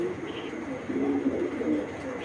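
A female Belgian-bloodline racing pigeon coos in a few low, rolling notes close by, with a person talking.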